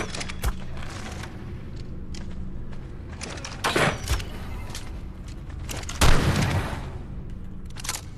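Gunfire in the video game Ark Survival Evolved, on the Ragnarok map in a cave, with a few loud sharp shots standing out over a steady game background of rumble and ambience.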